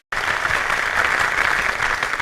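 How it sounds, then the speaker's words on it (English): Steady applause from a standup comedy audience, dense clapping sustained throughout after a brief silent start. "Give yourself a wee burst of applause."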